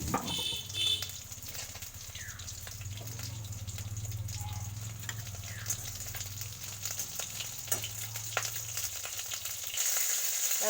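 Pieces of catla fish fry in a pan with a steady bubbling sizzle, joined by a low hum and occasional clinks and spatters, continuing for about ten seconds.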